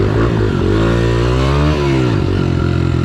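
A loud Harley-Davidson motorcycle engine revs up and down close by, its pitch rising and falling in a continuous roar.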